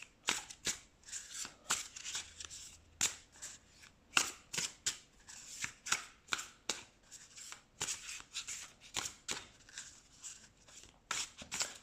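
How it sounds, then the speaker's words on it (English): Tarot cards are shuffled repeatedly up close, crisp riffling flutters and soft slaps in a quick, steady rhythm with no talking. "Let's shuffle."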